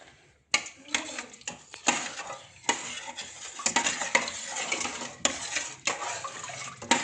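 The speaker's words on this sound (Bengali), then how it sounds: "একটু ঘি দিয়ে ভালো করে নেড়ে নিন" Khichuri stirred in a pot with ghee, a spoon scraping and knocking against the metal in irregular strokes over a low sizzle, close and fairly loud, with no speech.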